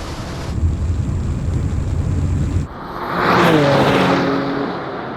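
BMW M2 and BMW XM launching side by side in a drag race, a loud engine roar that drops briefly, then surges into a rising, revving acceleration sweep close by.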